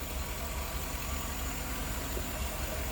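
A 2010 GMC Yukon SLT's 5.3-liter Vortec V8 idles smoothly as a steady, low, even hum with no surges, heard faintly and continuously throughout.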